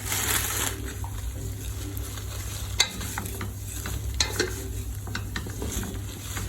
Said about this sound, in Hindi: अब आप अच्छी तरीके से इसको फ्राई कर लीजिए